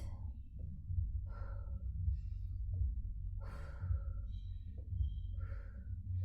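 Steady breathing in and out during a live supersets workout, a series of audible breaths and sighs repeating at roughly one-second intervals over constant low background noise, with no talking.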